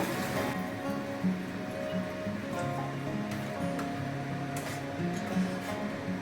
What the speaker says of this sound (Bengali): এবার আমি এর সাথে জল অ্যাড করবো অল্প করেই করব